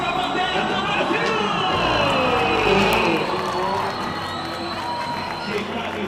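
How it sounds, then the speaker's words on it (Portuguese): Crowd cheering and applauding in the stands at a Superbike event at Interlagos, a dense, steady roar of many voices and clapping that swells slightly midway, with faint whistles over it. "olha aí, os aplausos de vocês para a bandeira do Brasil!"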